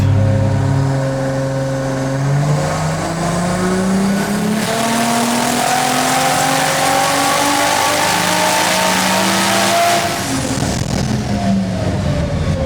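A turbocharged Barra engine in a Holden race-style car revs hard on boost, its loud, raw note climbing and falling in pitch across several sustained pulls, close up with no talking.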